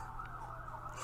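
A siren wails far off in a steady, continuous tone, distant and faint.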